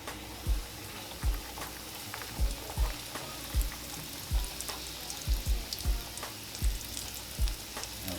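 Floured liver fries in hot vegetable oil in a cast iron skillet with a constant crackling sizzle, punctuated by about a dozen soft low thumps as pieces are laid in at irregular intervals; no voices.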